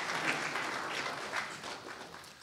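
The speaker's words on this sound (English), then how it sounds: "I love the applause." Faint audience applause rising and fading during a live software demo session, a steady wash of distant clapping with no voices over it.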